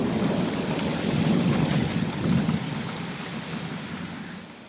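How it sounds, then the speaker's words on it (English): A thunderstorm rages outside, with heavy rain pattering steadily and low rumbles of thunder swelling and fading, loud and continuous with no voices. "now it is storming outside also. It's been hours, and now it's storming. It's an epic storm outside."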